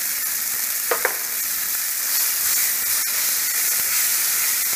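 Masala, chili, turmeric and coriander powders fry in a pan for chicken biryani, a steady close sizzle and hiss with a couple of brief stirring clinks early on and no talking.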